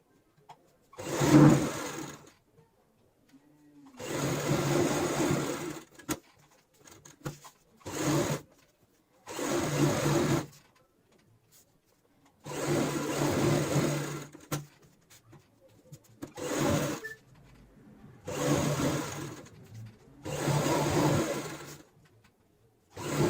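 A sewing machine stitches slippery satin cushion cover fabric in repeated short runs of close, buzzing whir, each lasting a second or two, separated by quiet pauses while the cloth is guided.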